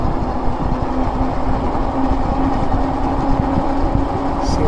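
Wired Cruiser electric bike ridden at full throttle around 20 to 23 mph, giving a steady, loud drone with a constant motor whine and heavy rushing road and wind noise throughout.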